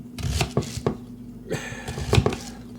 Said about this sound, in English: If you don't want to cry when you're cutting an onion